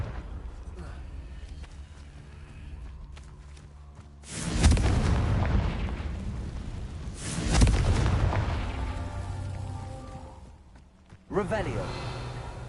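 Fire-blast spell explosions in the Hogwarts Legacy video game, two heavy booming bursts a few seconds apart with rumbling decay, a third blast near the end, and a voice calling out spells over the game sounds.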